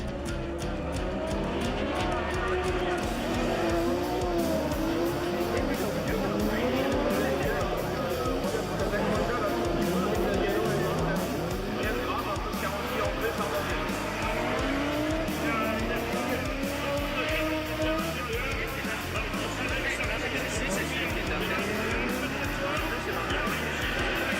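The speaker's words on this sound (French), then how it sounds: "Là on a Pussier qui est en difficulté sur la piste." Race cars slide and rev on the snowy ice track of the Trophée Andros at Isola 2000, engines rising and falling with tire squeal, while a commentator talks over the racing throughout.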